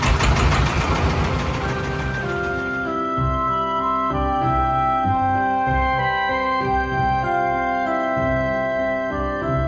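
A motor boat engine runs steadily through a short crossing over clear water near Wureh, carrying two people and a motorbike. It opens with a loud, rough churn, then settles into a continuous drone with sustained tonal layers and no talk.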